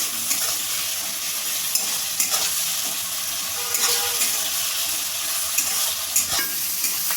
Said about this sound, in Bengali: নুন দিয়ে আমি পেঁয়াজ আর টমেটোটা ভালো করে ভেজে নেব।